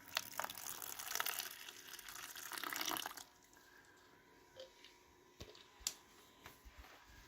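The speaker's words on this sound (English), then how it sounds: "So we're gonna put the water in." Water is poured into a tarantula enclosure for a Cyriopagopus lividus, a few seconds of loud close splashing followed by quiet drips and small clicks.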